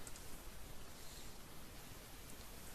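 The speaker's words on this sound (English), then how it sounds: "we can have rain, and I can decide how much rain I want to hear" Steady rain from an interactive ambient sound mixer hisses continuously and evenly, a soft, dense patter with no breaks and no other sounds.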